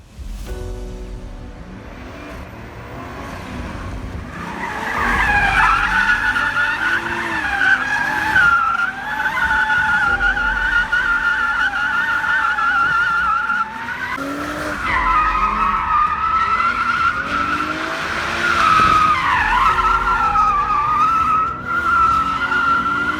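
A 2020 Toyota Supra MKV drifts on a track, its engine roaring steadily while tires squeal in long sustained wails that rise and fall over about twenty seconds, loud and close.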